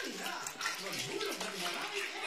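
Bath water splashes and runs steadily as a baby is bathed at home, a soft continuous wash of sound with voices mixed in underneath.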